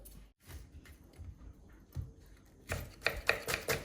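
Onions being chopped for a dried fish curry, a few soft knife taps on a board that turn into a quicker, louder run of cuts near the end, close by in a quiet room.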